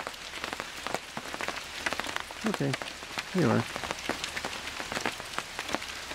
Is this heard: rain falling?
yes